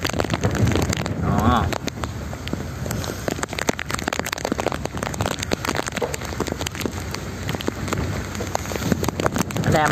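Heavy rain lashing down at sea off Phu Quoc during a storm (typhoon No. 5), a dense continuous hiss of drops with gusty wind buffeting the microphone.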